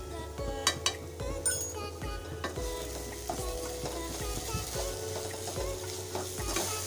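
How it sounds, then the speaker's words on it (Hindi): Spice masala with roasted cumin powder and black salt frying in a pan, a steady close sizzle broken by repeated stirring scrapes and occasional clinks of a spoon against the pan. "देखिए मसाला सब भून चुका है।"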